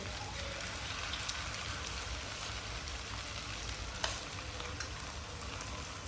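Chicken 65 pieces deep-fry in a pan of oil, making a constant dense sizzle like heavy rain, with occasional small crackles and pops and no talking.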